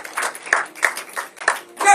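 A church congregation claps during a Sunday worship service to acclaim the Lord, with a handful of loose, moderately loud clusters of hand claps spaced roughly evenly apart.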